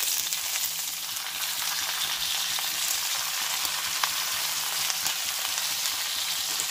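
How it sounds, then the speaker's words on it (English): Cauliflower fries in a pan with a steady, bright sizzle and occasional stirring scrapes, close and continuous throughout. "we starting to put the cauliflower first."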